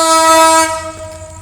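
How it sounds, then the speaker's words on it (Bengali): A train rumbles close by as its horn blares in a loud, steady chord, then the horn cuts out and the rolling noise carries on more quietly. "এই যে ট্রেন চলে"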